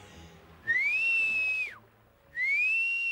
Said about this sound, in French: je voudrais continuer à siffler